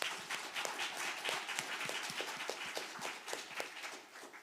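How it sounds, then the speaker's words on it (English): Scattered applause from a lunchtime audience after a faith-and-work panel discussion, individual claps spaced out and fairly quiet, with a loose uneven rhythm. "let's give them a round of applause"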